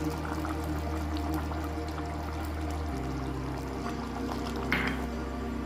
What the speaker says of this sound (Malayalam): ഇനി നമുക്ക് ഇതിൻ്റെ അകത്തേക്ക് പിഴിഞ്ഞ് വെച്ചിരിക്കുന്ന പുളിവെള്ളം ഒഴിച്ചു കൊടുക്കാം